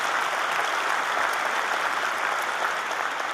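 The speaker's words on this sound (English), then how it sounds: "A loud round of applause." Loud, sustained applause from a large crowd at a governor's inauguration, dense clapping filling the whole stretch with no pauses and no voices on top.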